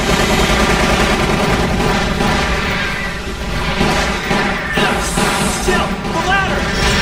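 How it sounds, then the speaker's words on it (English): Rapid gunfire from the Resident Evil Umbrella Chronicles video game, loud and dense bursts layered over a droning game soundtrack and background effects, continuous throughout with voices mixed in. "Try shooting it now!"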